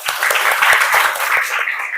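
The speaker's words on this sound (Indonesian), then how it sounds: "Tepuk tangan buat kalian." Children in a class 4 classroom applaud together, a dense burst of quick claps lasting about two seconds, fairly close and loud, with no talking over it.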